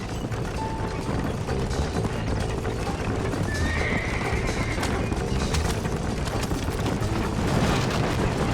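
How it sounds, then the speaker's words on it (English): Horses hauling a wagon in the Red Dead Redemption video game: steady hoof clip-clop with rolling wheels, a horse whinnying midway, over a continuous rumbling background. "Work them horses. Come on, let's get this wagon moving."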